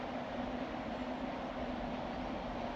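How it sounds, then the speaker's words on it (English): Two Ffestiniog Railway trains in North Wales rumble distantly across a wooded valley near Tan-y-Bwlch station, a steady, faint, echoing drone with no clear beats. "the sound of two trains actually echoing across the valley"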